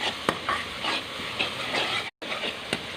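Spices stirred and roasted in a pan for a Nargisi kofta masala, with a steady sizzle broken by sharp scraping stirs, close and moderately loud, including a brief dropout near the end.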